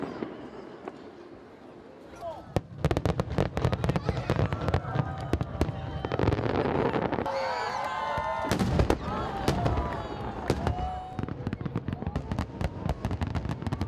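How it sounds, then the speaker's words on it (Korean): Fireworks burst over Gwangalli beach in Busan during an autumn festival evening, a dense barrage of sharp cracks and booms with crackling trails, continuous for over ten seconds amid a faint crowd murmur. "가을밤을 화려하게 만드는 수많은 불꽃들."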